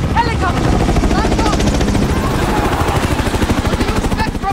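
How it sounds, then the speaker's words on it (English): Helicopter rotor thumping in the Call of Duty Modern Warfare (2019) campaign, a loud steady chop that grows through the clip, mixed with game effects and a voice talking over it. "Helicopter!"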